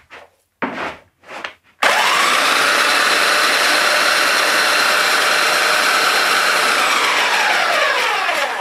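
A Makita power tool motor whines at full speed, loud and steady for several seconds after a few short stop-start bursts, in a boatbuilding workshop.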